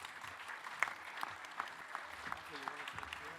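An audience at a cyber security conference panel claps for a panelist taking the stage, an even, moderately distant round of applause with a voice murmuring faintly underneath.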